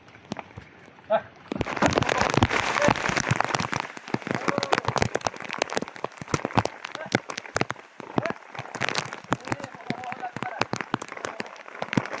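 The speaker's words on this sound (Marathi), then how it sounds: "आज आहे ना पाऊस पण खूप आहे" Heavy rain pouring down on a farm in the Konkan during the rice planting season, a dense, steady, close rattle of drops and patter. It is loud and continuous, with voices now and then.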